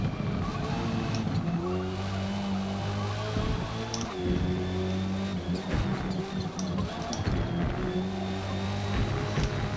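An Audi RS3 lapping a circuit in Forza Motorsport, engine droning steadily with gear shifts and rising revs, tires squealing through the corners, loud and close throughout.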